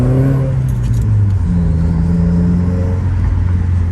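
A Subaru WRX fitted with a catless J-pipe exhaust pulls to higher RPM, its loud, raspy engine note climbing and shifting pitch in a few stepped surges over four seconds.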